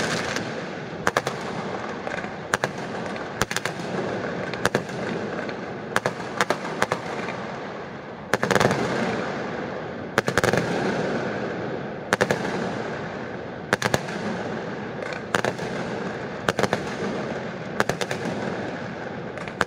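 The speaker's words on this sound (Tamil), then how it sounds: "இப்போ எங்கள் வீட்டில் இருந்து நாங்கள் பட்டாசு வெடிக்கிறத காமிக்கிறோம் பாருங்கள்." Firecrackers go off at a home during an Eid celebration in Malaysia. Loud sharp bangs repeat at irregular intervals over a steady roar of continuous crackling, with no talk.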